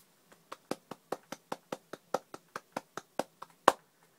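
A person claps slowly and steadily, about eighteen sharp, close claps at an even rhythm, with a louder one near the end and no talking.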